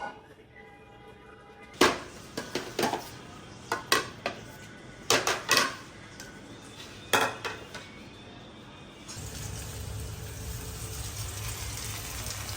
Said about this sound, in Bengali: এখন হচ্ছে গিয়ে ইফতারগুলো সব প্লেটে প্লেটে বেড়ে ফেলবো।